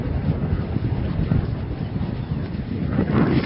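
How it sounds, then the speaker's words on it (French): Wind gusts across open Pampa grassland, buffeting the microphone with a low, rumbling roar that swells and eases for a few seconds. "Il y a du vent."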